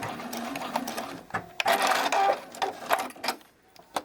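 A sewing machine backstitches across bralette cradles in bursts of rapid mechanical whirring and clatter, stopping and starting, close by and loud, with no voices.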